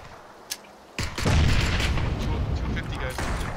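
Grenade explosions and gunfire in the video game PUBG: a sharp crack, then a sudden heavy blast that swells into a loud, sustained rumbling din of combat.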